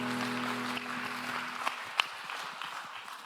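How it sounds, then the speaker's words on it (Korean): Congregation clapping together during a Sunday youth worship service at a Korean church, a steady, moderately faint wash of applause with no voices over it. "그래서 우리 박수로 서로의 삶을 응원하며 축복합니다"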